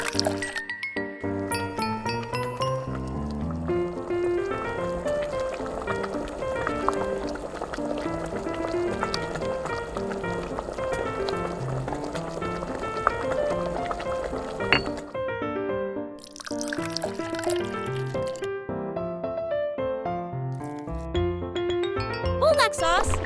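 Water pours into a tiny pot during miniature cooking, a light trickle running on and off with clinks, under a steady musical backing that nearly masks it.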